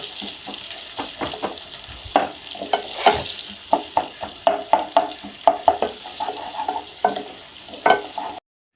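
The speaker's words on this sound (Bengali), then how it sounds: "এবার দিয়ে দেবো পেঁয়াজ কুচি, পেঁয়াজটা ভেজে নেব।" Chopped onions fry in soybean oil in a pan for biryani, a steady sizzle broken by regular scraping stirs of a spatula, close and clear with no talking.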